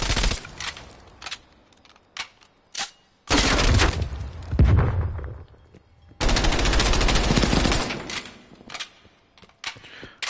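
Bursts of automatic gunfire from Call of Duty Prop Hunt, with two long, loud sustained volleys separated by short single shots and quieter gaps.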